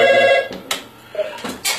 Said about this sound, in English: so until the phone rings again